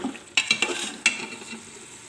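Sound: mixing chicken with cream in a pan

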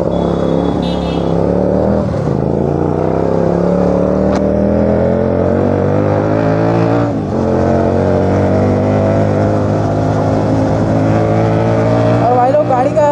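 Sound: vehicle engine sound during fast city ride

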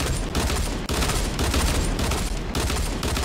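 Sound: gunfire from the video game Fortnite

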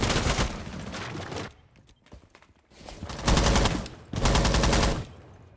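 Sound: gunfire from the video game Rainbow Six Siege

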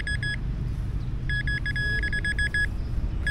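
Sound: metal detector signal while searching park lawn for coins

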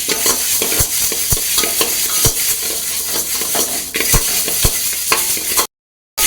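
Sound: roasting and stirring spices for sambar powder in a pan

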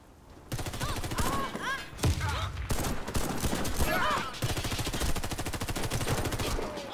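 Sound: gunfire in a first-person shooter video game

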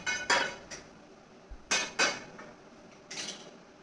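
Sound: wok placed on gas stove

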